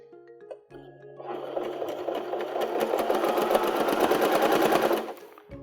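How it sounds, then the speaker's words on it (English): A mechanical sewing machine starts up and runs in a steady, fast rhythmic clatter of stitching for about four seconds, loud and close, with no talking, then winds down. "Has this ever happened to you when you start sewing on your mechanical machine?"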